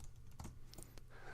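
Quick, uneven clicks of typing on a computer keyboard while entering a new client's details, close and fairly quiet, with a few brief bursts and pauses.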